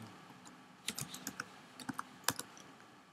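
Someone types a folder name on a Mac keyboard in uneven, quick bursts of light key clicks. The sound is close but faint, with a quiet room behind it.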